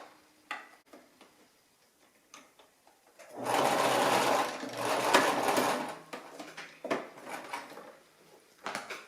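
A sewing machine runs a curved circular seam on a small fabric baby hat, a steady burst of close, moderately loud stitching lasting a few seconds, framed by soft clicks and fabric handling before and after.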